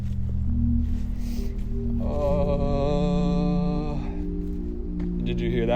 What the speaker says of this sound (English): That's the sound of a dead engine there.